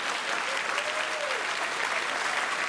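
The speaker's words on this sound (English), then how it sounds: "Are you applauding?" Studio audience applause, loud and continuous, a thick wash of clapping with no breaks from start to finish.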